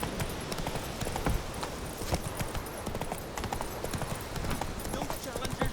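Roach, a horse in The Witcher 3, gallops with fast, steady hoofbeats that drum on throughout, with game sounds layered on top.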